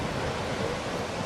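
Jog Falls in Karnataka, water plunging over rocks with a strong wind blowing, heard as a loud, steady broadband roar that stays even throughout and has no voices.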